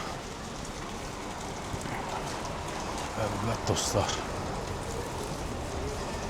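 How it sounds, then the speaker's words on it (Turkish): Steady rain falls on a street in Batumi, a dense continuous hiss throughout, with someone speaking briefly over it. "Yağmur da yağıyor bir yandan."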